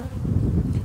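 Honey bees fanning at a hive holding queens, giving a steady low buzzing hum close by that runs without a break.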